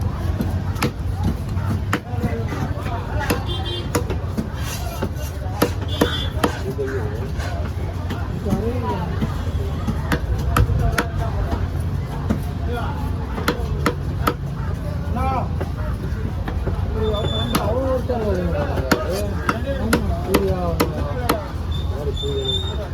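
Kannadi paarai fish is cut at the busy Kasimedu fish market, with irregular hard chops and knocks over constant crowd noise, traffic and people talking.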